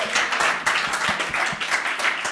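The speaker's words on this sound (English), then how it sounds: "Big applause." A small audience at a student demo day claps in a brief, moderately loud burst of applause with uneven individual claps audible.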